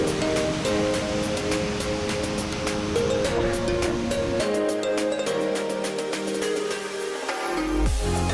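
Loud, constant roar of a large waterfall heard up close from its top, a dense rushing wash that never lets up, its low rumble thinning briefly partway through.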